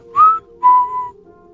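Two clear human whistles, a short rising note then a longer level one, sound close and alone over a faint steady hum in a quiet setting.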